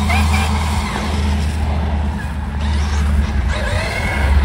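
A Traxxas UDR RC truck drives hard outdoors, its electric motor whining and surging with tire scrubs and skids throughout, loud and close, with a low steady drone underneath.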